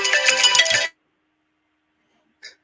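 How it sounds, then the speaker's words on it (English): A mobile phone ringtone plays a short melodic burst up close, cuts off abruptly, and a faint chime follows a moment later. "Sorry, that was my phone going off there."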